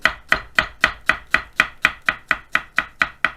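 Steady, rapid knife chops julienne-cutting vegetables on a cutting board, about four per second, crisp and close, with no voices.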